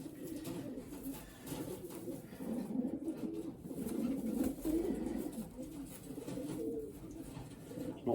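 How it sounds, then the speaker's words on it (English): Racing pigeon cooing at a young bird race from Okehampton, a soft steady run of low murmuring coos held close by over a faint room hum, with no talk. "This is a little pigeon."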